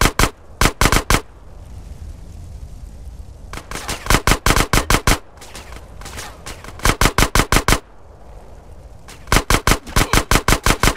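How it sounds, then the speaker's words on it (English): Rapid bursts of gunfire in GTA San Andreas, sniper shots in a mission mix, loud sharp cracks fired in clustered volleys of several rounds with brief gaps between, over a low background rumble. "That was a sniper bullet!"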